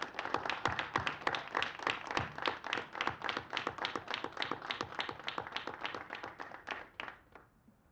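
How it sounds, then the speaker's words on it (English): A round of applause from an audience at a police press conference, dense clapping that holds steady for several seconds and then tapers off at the end. "If you would, join me in giving them a round of applause."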